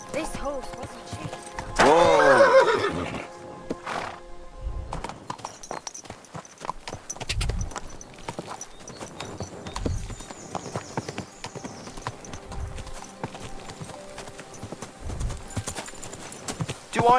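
Horse in the video game Kingdom Come: Deliverance II, with a loud neigh early on followed by a steady, close clip-clop of hooves continuing to the end, with some speech over it.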